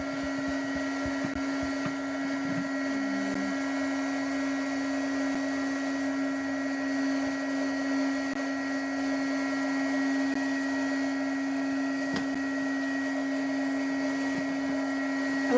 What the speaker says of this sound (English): I'm going to turn my embossing on.